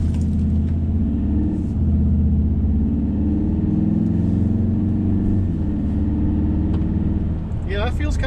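A Volkswagen car's engine, fitted with a race sound, hums and revs in a steady low rumble heard from inside the cabin, with a brief sharper rise near the end.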